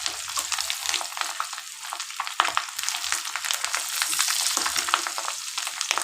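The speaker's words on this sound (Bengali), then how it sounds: "দেখুন দেখেছেন কি সুন্দর ফ্রাই হচ্ছে।" Fish roe fritters fry in hot oil in a pan, giving a dense, steady crackling sizzle close by, with small pops and the occasional scrape of a spatula stirring.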